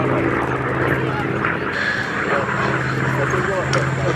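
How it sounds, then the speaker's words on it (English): Piston-engined Fury fighter aircraft rolling out at the Duxford Battle of Britain airshow 2024, its propeller engine a steady near drone with a low tonal hum throughout, mixed with crowd and commentary talk. "There's the Fury rolling out."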